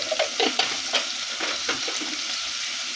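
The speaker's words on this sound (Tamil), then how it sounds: "நல்லா இந்த எண்ணெயிலே வதங்கட்டும்" Turmeric and red chili powder sautéing in oil in a pan while cooking biryani, a continuous sizzle with clustered spatula scrapes and taps early on, easing into a steady hiss.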